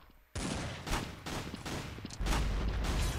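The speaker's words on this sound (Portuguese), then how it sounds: "Você dá muito tiro de uma vez, só que ela tem só 7 balas e atira bem rápido 7 balas." Rapid bursts of video game gunfire from a fast-firing seven-round weapon, loud sharp shots in quick succession with dense reverberant blasts and no pauses between volleys.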